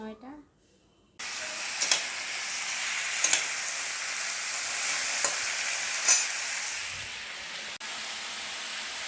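Vegetables sizzle and fry in a pan, with a steady hiss broken by a few short stirring scrapes after a brief quiet start.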